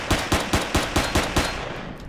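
Rapid gunfire from a weapon in the space survival game Empyrion: about seven evenly spaced, punchy shots in a steady burst, loud and close, then a fading tail with no talk.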